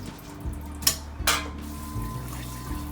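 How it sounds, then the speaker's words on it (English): Soaked quinoa being rinsed in a colander under tap water: soft splashing and trickling with a couple of brief sharper clinks of grains and metal, fairly quiet and close. "Take all the quinoa from your pot and rinse it."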